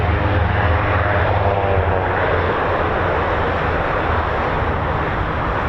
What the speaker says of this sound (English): And listen to that bass. That sounds like the startup of the Red Arrows.